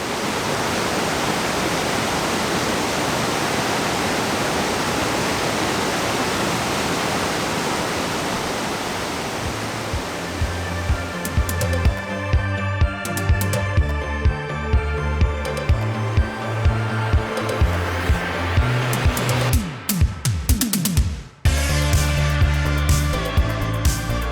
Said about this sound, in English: I think this is the waterfall. That's beautiful, flowing over the exposed rock like that.